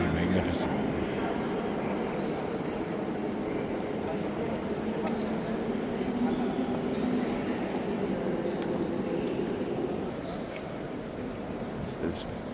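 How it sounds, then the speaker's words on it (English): Reverberant ambience in the grand central entrance hall of Antwerp's train station, a steady wash of crowd murmur and footsteps echoing under the high ceiling, with people talking nearby throughout. "We've entered the central hall, or the entrance hall anyway, of the Antwerp train station"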